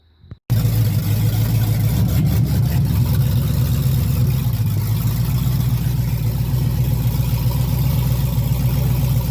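A Chevrolet S10 truck fitted with a 6.0 engine runs with a loud, steady low rumble throughout, close by and with no voices.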